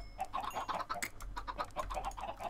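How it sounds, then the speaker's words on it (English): Chickens in the video game Minecraft cluck in quick, repeated bursts, a busy flock of short clucks running continuously at low volume. "Let's breed the chickens while we're here."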